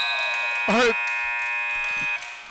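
A buzzer sounds at the end of the third quarter of a cadet division 3 men's basketball game, a steady loud droning tone held through the clip with a short crowd shout over it.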